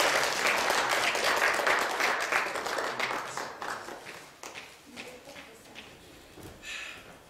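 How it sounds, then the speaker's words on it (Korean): A church congregation applauds in celebration during a Thanksgiving Sunday service, with dense clapping that starts loud and full, then thins and fades into scattered claps and faint murmuring. "우리 박수로 축하드립니다"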